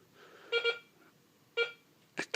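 Minelab X-Terra 705 metal detector sounding over a British 20p coin held at about nine inches: two short pairs of tonal beeps about a second apart, followed by two brief sharper blips, faint and isolated with no talk.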